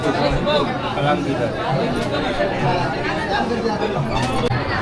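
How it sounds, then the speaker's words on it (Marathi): A large crowd queues for darshan at the Siddhivinayak Ganpati temple in Titwala, a dense, steady hubbub of many overlapping voices close around without letup. "खूप गर्दी आहे बघा, प्रचंड गर्दी आहे."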